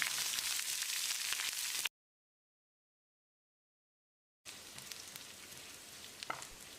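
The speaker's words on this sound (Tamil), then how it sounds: "3 வரமிளகாயை சேர்த்து ஒரு 30 செகண்ட் ஃப்ரை பண்ணிக்கலாம்." Steady crackling sizzle of three dried red chillies frying in hot oil, broken by a stretch of complete silence before the sizzling resumes.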